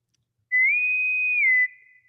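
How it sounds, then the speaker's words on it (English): A single whistle sound effect, one clear sustained tone about a second long that rises slightly at the start and dips at the end, heard alone in silence. "Whistle."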